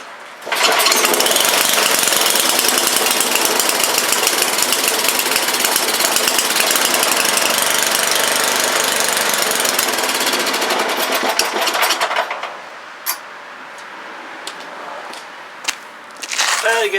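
A small engine fires up after sitting on choke and keeps running loud and steady for about twelve seconds, then drops back to a quieter idle with a few sharp clicks and bumps.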